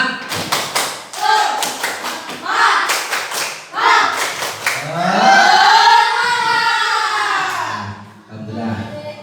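Fifth-grade schoolchildren perform a rhythmic patterned clapping chant, bursts of sharp group claps in set sequences followed by voices cheering together loudly.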